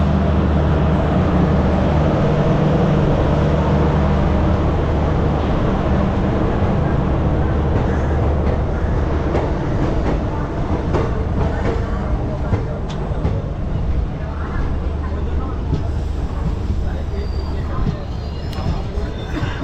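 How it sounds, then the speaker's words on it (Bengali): A long-distance passenger train pulls out of Kolkata station with a loud, continuous low rumble and rattling carriages, under a hum of passenger chatter and voices throughout. "একদম নির্ধারিত সময় ঠিক 9:05 আমাদের ট্রেন ছেড়ে দিল একদম কলকাতা স্টেশন থেকে"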